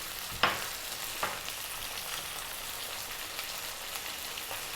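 Chicken stew ingredients seasoned with dried rosemary, oregano, thyme, salt and black pepper sizzle in a pan over lively heat, a steady close frying hiss broken by a couple of sharp scrapes of stirring.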